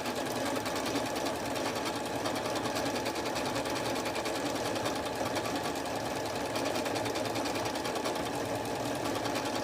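A sewing machine runs steadily while a quilt is being labelled, giving a continuous close mechanical hum with an even, rapid rhythm and no talking.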